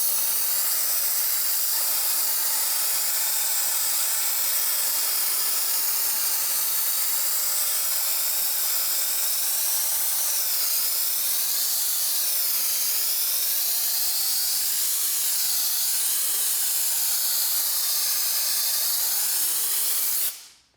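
Rag Company Ultra Air sprayer spraying in a steady, continuous high-pitched hiss, close and sustained for about twenty seconds before cutting off abruptly.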